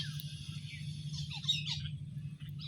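A flock of many birds chirping and twittering together in overlapping high calls over a low steady hum, moderately distant and fairly quiet.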